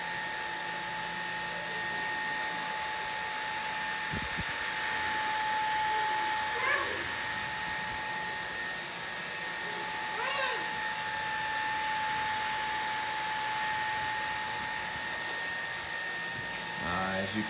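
A MOOSOO K24 cordless stick vacuum runs steadily on its low eco setting, a constant motor whine and airflow hiss held at an even level, with a few brief squeaky chirps over it.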